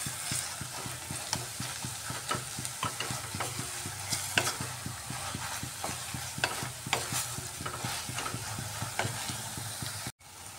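Spinach and spices for a spinach dal tadka are stir-fried dry in a pan, giving a steady close sizzle broken by repeated scraping spatula strokes, with a brief dropout near the end.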